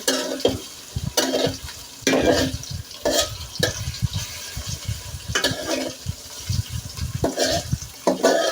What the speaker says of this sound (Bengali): কাঁচামরিচ পেঁয়াজ ভাজা হচ্ছে।